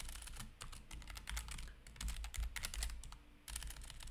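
Rapid keystrokes on a computer keyboard as a copyright notice for a puzzle book is typed, a steady run of close, crisp clicks with brief pauses, no talking.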